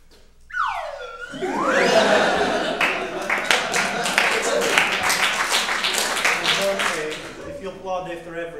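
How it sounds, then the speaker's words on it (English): Audience applause and scattered clapping at a comedy stage show, rising quickly after a whooping sound effect and sustaining for several seconds before tapering, with some crowd noise mixed in. "If you applaud after every silly punchline, it's going to be a really long show"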